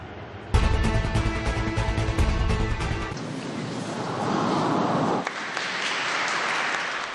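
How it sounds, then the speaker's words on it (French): A crowd applauds outdoors as the newly restored Fourvière basilica is lit up for the first time. Dense clapping starts suddenly and holds steady, then turns into a broad wash of noise that resembles wind or surf. "Des applaudissements du public qui découvre la nouvelle mise en lumière de la basilique de Fourvière"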